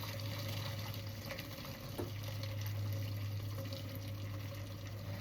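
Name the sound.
meat stock being poured off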